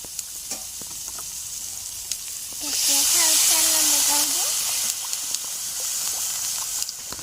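Onion dropped into hot oil for Maggi noodles sizzles loudly for a couple of seconds and then settles into a gentler hiss, with a person talking nearby around the frying.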